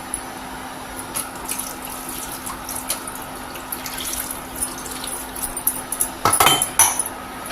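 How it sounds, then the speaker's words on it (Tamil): Water poured from a tumbler into a pot of rice and lentils for cooking, a soft continuous trickle with faint clinks of utensils, ending in a brief louder splash near the close, with no talking. "ஒரு 1/2 டம்ளர் சேர்த்து ஊற்றுறேன் பருப்பு வேகிறதுக்கு"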